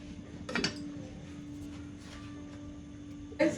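A metal pot on a stove is covered with its lid while cooking yam: a light metallic clink, a steady hum through the middle, then a second sharper clank near the end, close and fairly quiet.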